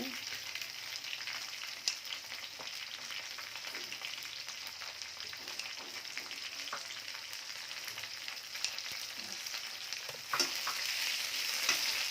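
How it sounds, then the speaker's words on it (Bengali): Onion and garlic sizzle steadily in a hot pan, a constant crackling hiss with occasional stirring clinks, close and fairly quiet. "পেঁয়াজ রসুন ভাজা হয়ে গেছে, এখন ঝাল দিয়ে দেবো একটু"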